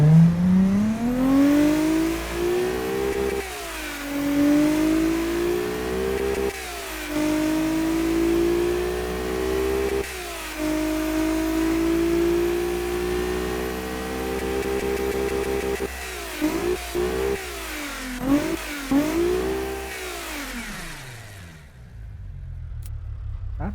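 An Infiniti Nismo car engine in a racing video game revs and holds through repeated gear pulls, its pitch climbing and sagging between brief shift drops, loud and close, before cutting off at the end.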